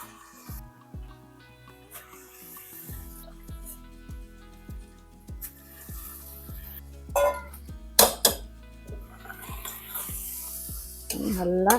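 Soaked jeera samba rice is stirred in a pot of egg biryani, with soft scraping, wet clinks and drips in a quiet steady rhythm, rising to a few louder knocks toward the end.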